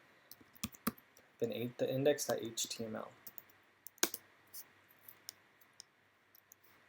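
Keyboard keys clicking as a terminal command is typed in iTerm2 with Zsh, sharp scattered keystrokes around a short stretch of talk, then a few more sparse taps.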